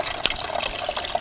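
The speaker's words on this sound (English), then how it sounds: "this is how I am watering, especially the plants, the blueberry and the tea plant" Compost tea poured over potted blueberry and tea plants in a home garden, a soft steady splash and trickle of liquid running close by, with a brief brighter spatter near the start.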